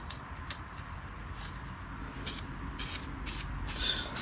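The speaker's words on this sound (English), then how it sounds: "It's really just like spraying everywhere." A Rust-oleum spray paint can hisses in short bursts while painting the rear end of a tractor, several quiet sprays of varying length coming close together.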